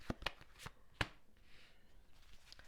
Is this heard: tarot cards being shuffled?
yes